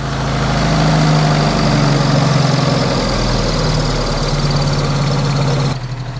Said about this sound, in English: Let's just turn this idle down a bit on these bike carbs.